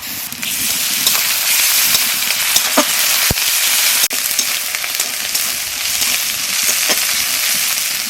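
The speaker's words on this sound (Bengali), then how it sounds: "পেঁয়াজ আর রসুন ভাজা হয়ে গেছে" Onion and garlic frying in hot oil for a Bengali fish curry, a loud, steady sizzle with crackling pops throughout and a couple of sharp clicks, no talking over it.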